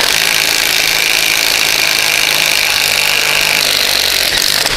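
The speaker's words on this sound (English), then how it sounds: "We're gonna press it out with the tools that they provide in the kit" A loud, steady mechanical grinding noise runs throughout as a bushing is pressed out with a kit press tool, with no clear breaks.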